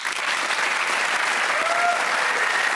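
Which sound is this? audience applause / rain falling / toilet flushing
audience applause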